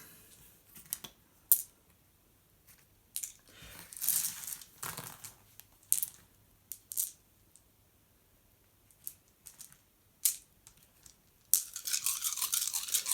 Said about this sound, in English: Now they're going to roll 2 dice each.